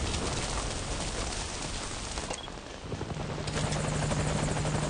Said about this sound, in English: it sounds like our helicopter is on the way